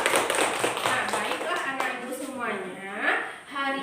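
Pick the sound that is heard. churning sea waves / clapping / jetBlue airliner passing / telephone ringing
clapping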